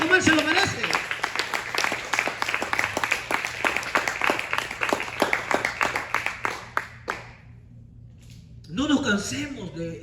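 A church congregation claps steadily in a rhythmic, loud offering of applause for several seconds, then the clapping stops and a voice begins speaking.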